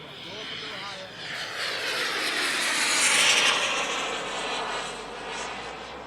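A twin-turbine RC model jet flies overhead, its broad roaring rush swelling louder toward the middle as it passes, then easing slightly while it keeps circling, with voices faintly in the background.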